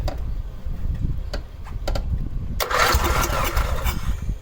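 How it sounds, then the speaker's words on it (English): A 1986 Cub Cadet riding mower, a few quiet clicks and faint low rumbling, then the engine cranks with a sudden loud, dense mechanical whirring in the last two seconds, close by. "Go ahead and try cranking it."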